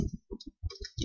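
Quick, light keyboard keystrokes while typing a command on a computer, several close clicks in short uneven bursts with brief gaps between them, fairly quiet and with no talking.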